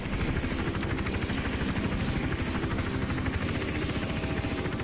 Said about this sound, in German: Reicht Helikopterfeuer aus?